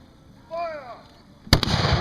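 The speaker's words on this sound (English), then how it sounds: "Hakebusse, gebt Feuer." During a historical weapons demonstration, a voice shouts a short command, then arquebuses fire in a loud, close blast with a quick follow-up report and a rumbling tail.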